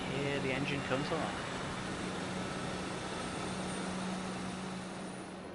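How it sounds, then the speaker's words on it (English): A spaceship engine from The Outer Worlds runs as a steady, broad hum and rumble with a low drone, and a voice speaks briefly over its start. "Here the engine comes along."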